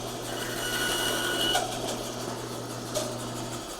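A wooden piece is shaved down to thin it, a steady mechanical hum with faint scraping and a couple of light knocks, no voices.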